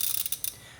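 Ratcheting socket wrench working an 18 mm front hub bolt on a RAM 1500 pickup, a quick burst of close, dry clicking pawl strokes that taper off within a second.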